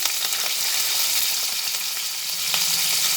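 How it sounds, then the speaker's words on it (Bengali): Chopped onion sizzles and fries in hot oil in a wok, a steady, close, bright crackle that holds evenly for a few seconds with no voices over it. "তেলের মধ্যে চিকানো পেঁয়াজ দিয়ে দিলাম"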